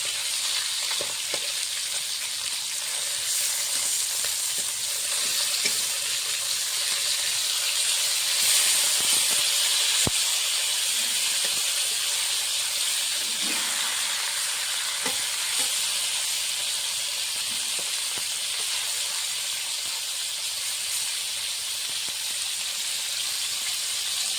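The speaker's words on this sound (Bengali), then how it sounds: "ওই সাইডে মাছটা ভাজা হচ্ছে" Fish frying in a pan, a loud continuous hissing sizzle close by with occasional light clicks and stirring sounds, steady throughout.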